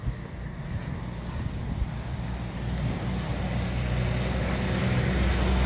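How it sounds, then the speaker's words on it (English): A truck passes on a snowy road during a winter walk, a low broadband rumble that swells gradually and stays steady, with no talking over it. "Truck."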